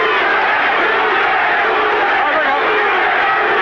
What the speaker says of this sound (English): the crowd picks up the chant of Duran's name